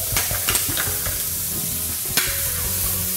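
Shallots sauté gently in a frying pan, a continuous close sizzle broken by a few brief clicks of a stirring utensil, with no talking.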